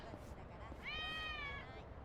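A cat meows in the Lost Judgment video game, one drawn-out, clear mew rising above a steady background bed of game ambience and murmur.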